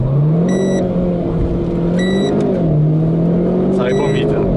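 A Renault Clio 4 RS revs at full throttle in launch control, the engine a loud, steady drone that swells and dips slightly, with electronic beeps recurring and people talking over it.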